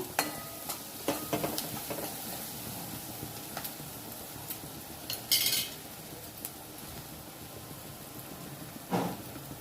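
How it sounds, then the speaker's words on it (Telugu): A metal ladle taps against a cooking pot while stirring a spiny gourd (boda kakarakaya) pulusu. The taps are scattered and light, with a brighter clatter midway and another near the end, over quiet kitchen background. "ఇట్లా గరిటే టప్ టప్ టప్ అనిపిస్తున్నాను"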